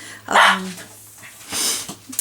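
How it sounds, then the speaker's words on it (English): A small puppy barks in two sharp yips, the first louder and longer, the second after a brief pause, close by and alone, with a faint whimper near the end. "about my barky little puppy"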